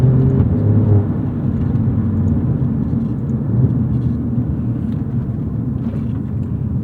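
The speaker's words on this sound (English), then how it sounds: "the engine, once you keep the revs high, you're not really getting much lag at all" A 2018 Alfa Romeo Giulia Quadrifoglio with its twin-turbocharged V6 held at high revs, giving a loud, steady engine drone and rumble that runs unbroken for the whole stretch, with no talking.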